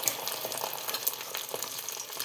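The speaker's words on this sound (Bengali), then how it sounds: "ওর জন্য আমি তাওয়ায় ডিমটা ভাজছি" An egg fries on a tawa griddle, making a steady close crackling sizzle with small irregular pops throughout.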